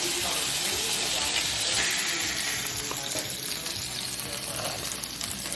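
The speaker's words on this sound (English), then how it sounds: "I'm going to go ahead and put those burgers on" Burgers fry in a pan with a steady, dense sizzle that holds at an even loudness throughout, close and continuous with no breaks.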